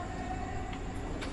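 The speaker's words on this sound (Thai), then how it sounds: "นี่อาจจะเป็นรถไฟรุ่นใหม่ครับ" A train rumbles steadily with a broad, continuous roar and faint squeals, heard close as if from on or beside the tracks, with no talk.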